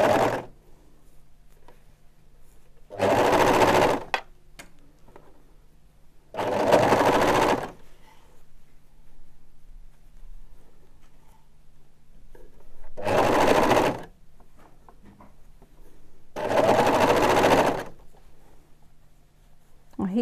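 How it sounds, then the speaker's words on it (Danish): An overlocker sews a seam on baby trousers in short runs, four bursts of fast mechanical whirring, each about a second long, separated by quiet pauses with a faint steady hum underneath. "det kan foregå med en overlocksøm på symaskinen, eller som her på overlockeren"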